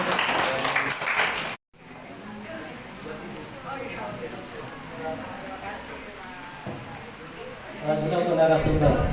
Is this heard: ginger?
no